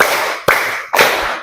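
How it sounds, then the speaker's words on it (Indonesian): Claps from a group in a classroom concentration exercise, two or three sharp broadband slaps with short decays, evenly spaced and fairly loud, no talk over them. "Tepuk 1, tepuk 2, tepuk 3,"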